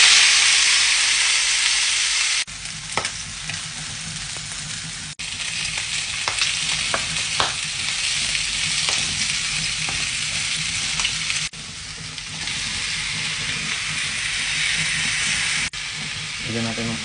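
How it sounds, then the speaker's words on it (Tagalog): Chinese chorizo sausage sizzles and hisses in a hot pan, loud and constant, with occasional stirring scrapes and a few clicks. "Prito na rin natin itong sausage."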